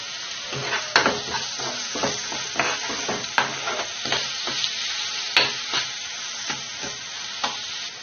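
Fish curry base with turmeric, rock salt and chili powder frying in a pan, a soft sizzle with repeated rhythmic scrapes and taps of stirring.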